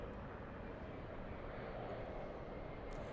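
Airliner on takeoff at LAX, heard as a distant, steady broadband engine roar that holds level throughout with no other sounds on top.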